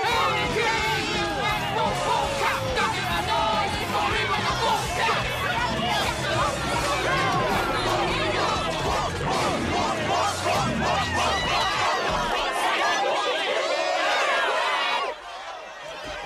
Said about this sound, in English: Just listen to that crowd.